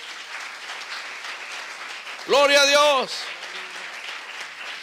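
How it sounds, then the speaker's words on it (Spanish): A church congregation applauds in a steady, continuous patter while a voice briefly shouts out loud over the clapping midway through. "Denle un aplauso al Señor."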